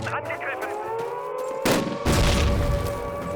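A frag grenade goes off in the WWII shooter Call of Duty, a sudden loud boom that leaves a broad rumbling burst ringing on, with a steady tone and distant gunfire behind it.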